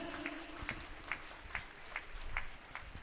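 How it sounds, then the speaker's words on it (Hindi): An audience at a stage programme claps for children on stage in a fairly faint, steady rhythm of about two beats per second, with a low murmur of crowd noise between the claps. "एक बार जोरदार तालियां हमारे प्यारे बच्चों के लिए।"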